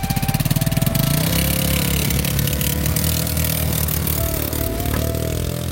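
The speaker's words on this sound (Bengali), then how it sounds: "ফাইনালি চলে এসেছে এটিভি। যাই ঘুরে আসি।" A quad bike's ATV engine runs near and loud on Bagda beach, steady and throaty, with a burst of rapid revving pulses at the start settling into a continuous idle-like drone.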